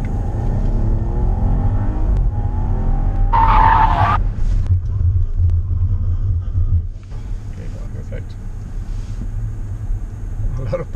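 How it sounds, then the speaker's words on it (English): 2017 Bentley Bentayga braking hard with ABS at Lime Rock Park, tires squealing and skidding in a short burst over a loud engine rumble and cabin noise, with talk in the car. "If you don't hear all those horrible, you know, loud, strange ABS noises, then you're not pushing hard enough"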